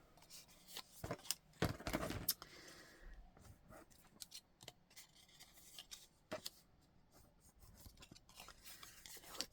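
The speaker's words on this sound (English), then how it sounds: "I'll just trim off those little fluffy edges." Scissors trimming the fluffy paper edges of a handmade card: a series of quiet, close snips and papery rustles spread across the stretch, some sharper cuts standing out from the soft handling noise.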